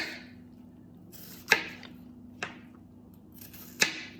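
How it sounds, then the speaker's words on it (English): A knife dices onions on a cutting board in three separate, sharp chops spaced about a second apart, close and crisp over a faint steady hum. "So we're going to cut up those 2 onions"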